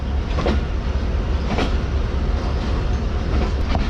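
The 12 Down Hazara Express, running between Havelian and Karachi, rolls past the Khanewal outer with a steady loud rumble of wheels and carriages and faint rhythmic clicks over the rail joints. No one speaks.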